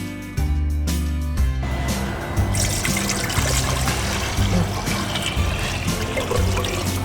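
Water runs and trickles steadily into a pot in a home kitchen, the start of 3.5 liters heading for a boil for Anglo-Indian ginger wine. A few sharp clunks come first, then a continuous close pour fills the rest.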